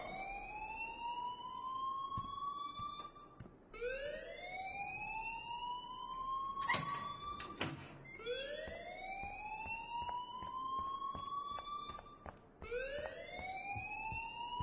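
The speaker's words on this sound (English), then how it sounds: "please turn off that alarm since that's your job" An electronic alarm in the video game Life is Strange wails in repeating rising sweeps, steady and moderately loud, with a few sharp clatters partway through and no talking.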